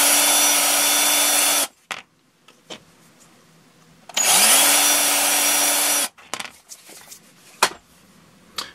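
A small power drill with a 3.2 mm bit whirs at high speed in two sustained bursts, drilling out a hole in a Tamiya Hornet RC car front suspension part, separated by quiet pauses with light clicks and taps.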